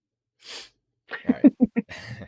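A single short, breathy sneeze is heard up close, followed by someone speaking briefly.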